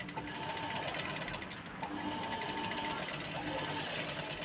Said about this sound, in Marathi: तर आता आपल्याला इथे डबल शिलाई करून घ्यायची आहे बरोबर